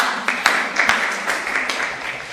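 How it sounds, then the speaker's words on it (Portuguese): An audience applauds the speakers at the end of an academic session, scattered claps building into steady, moderately loud applause that carries on throughout. "otro aplauso a los compañeros"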